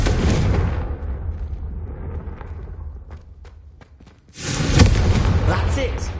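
Fiery spell blasts from the Confringo curse in Hogwarts Legacy: a heavy explosive roar, a quieter stretch with small cracks, then another loud boom.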